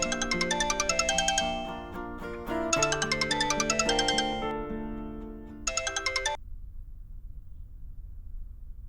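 A phone ringtone plays a bright, repeating electronic melody loudly and clearly for several seconds, then breaks off into near silence with a faint hum, no talking.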